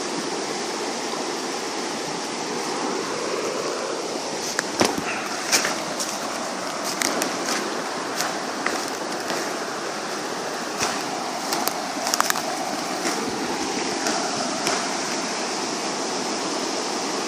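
A creek flows steadily and close by, a dense broadband rush of running water with scattered splashes and gurgles, continuous and fairly loud with no voices.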